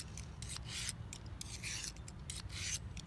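A very thin stainless blade edge being sharpened on a two-sided coarse and fine sharpener: quiet, close scraping strokes repeat in an uneven rhythm against a low background hum.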